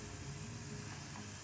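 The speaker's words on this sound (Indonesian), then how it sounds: "Kita rebus sampai mengental dan warnanya kecoklatan." Tamarind, palm sugar and a little salt simmering together into a thickening sauce, giving a steady close bubbling sizzle with no talk.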